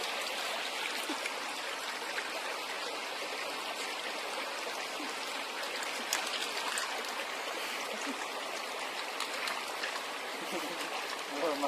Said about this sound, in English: So here we are at the creek just below our campsite